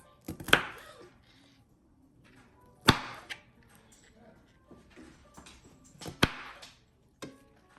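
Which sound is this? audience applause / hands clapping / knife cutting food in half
knife cutting food in half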